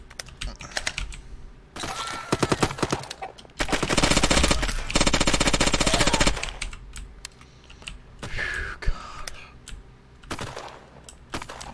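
Video game gunfire comes in dense rapid bursts, including a long sustained volley in the middle, mixed with clicky keyboard typing and occasional quiet voice sounds.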